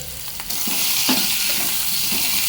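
Potatoes fry in a pan on low heat for a dry potato sabji while being stirred, a close, soft sizzle with a few scraping and clinking touches from the spatula, no voices.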